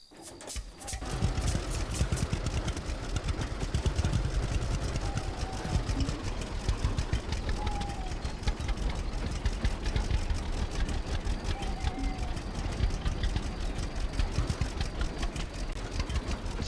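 A tractor engine idles steadily in Lumberjack's Dynasty, a continuous low mechanical rumble with rapid regular chugging that holds at a constant level throughout, with no talk over it.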